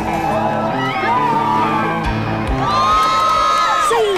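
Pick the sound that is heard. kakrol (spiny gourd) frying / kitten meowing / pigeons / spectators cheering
spectators cheering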